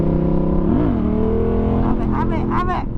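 A motorbike revs hard through a wheelie outdoors on the Isle of Skye, with a steady loud engine drone that swoops in pitch before sharper rising revs near the end.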